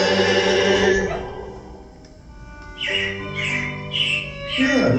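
Animatronic robins in Disney's Carousel of Progress show, a string of squawky chirping bird calls in the second half following a fading musical chord, close and fairly loud within the theater.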